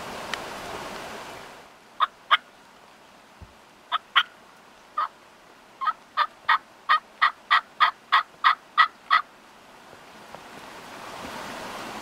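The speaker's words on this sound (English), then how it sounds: "He's gobbled like twice" A wild turkey gobbling during Indiana spring hunting, several rapid rattling gobble bursts that build into a long series of sharp pulses, carrying clearly over a quiet, airy outdoor background.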